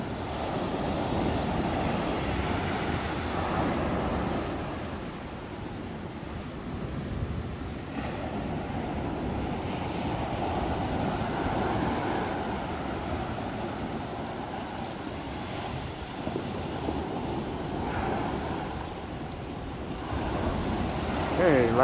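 Ocean surf and steady wind at Davenport Beach on the California coast, a continuous broad wash of waves with wind buffeting the microphone throughout, fairly close and even in level.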